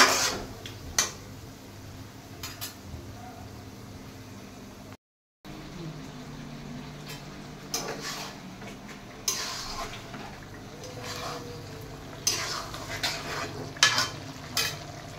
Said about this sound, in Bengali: মাংসটা কষতে থাক, আমরা অপেক্ষায় থাকি।